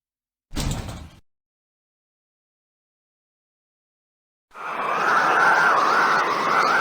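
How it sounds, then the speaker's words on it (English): A shuttle trunk in Space Quest 6 releases from a pulled handle: a brief mechanical clunk and slide, then silence, followed by a steady humming drone that continues to the end. "You pull the handle and hear something release on the outside of the shuttle"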